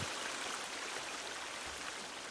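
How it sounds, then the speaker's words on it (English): Waterfall from the survival game The Forest: a steady, dense broadband rush of falling water, continuous and even in level, heard alone without voices. "like this waterfall here"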